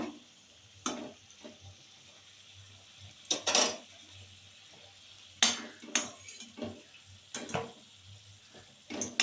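Potatoes fry with salt and pepper in a pan for jackfruit biryani, a quiet sizzle broken by several sharp clinks and scrapes of a metal spatula against the pan.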